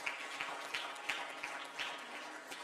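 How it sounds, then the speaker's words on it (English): Quiet, somewhat distant applause from an audience for the top 50 changemakers at a live-streamed youth leadership event, scattered individual claps with a few sharper hits over a soft, continuous patter. "let's have a round of applause for them."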